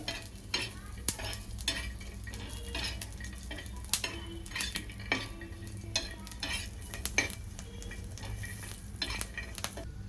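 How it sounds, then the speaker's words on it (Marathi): Cumin being stirred and sautéed in a hot pan while making raw mango chutney, with a steady soft sizzle, scraping spoon strokes and occasional clinks against the pan, close up and with no talking. "चांगलं परतून घ्यायचंय।"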